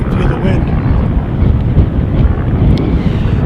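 Strong wind buffets a microphone outdoors, making a loud, constant low-frequency rumble and roar that lasts throughout with no clear break.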